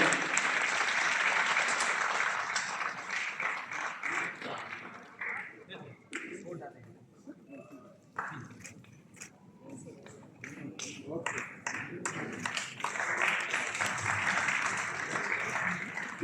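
Audience applause at a mushaira book launch, a dense burst of clapping that thins out in the middle before swelling again toward the end, with a voice speaking through the quieter stretch.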